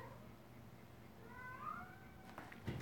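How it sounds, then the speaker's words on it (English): A cat meows once, a drawn-out rising-and-falling call, close by and fairly quiet, followed by a few faint rustling sounds. "She'll just keep meowing at me."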